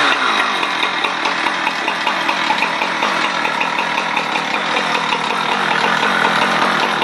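A Husqvarna 455 Rancher chainsaw runs at steady high throttle, a continuous loud buzzing engine drone that sounds like it is not reaching full RPM, with no voices over it.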